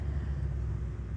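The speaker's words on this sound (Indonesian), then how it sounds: "cukup banyak sekali truk yang lalu lalang di kawasan ini" Heavy trucks rumbling past on the Padang–Sicincin toll road construction site at Parit Malintang, a steady low engine and road roar close by with no clear individual pass-bys.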